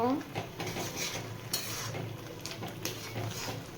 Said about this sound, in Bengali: পাতাগুলো দিয়ে দেবো ভালোভাবে মিশিয়ে নেব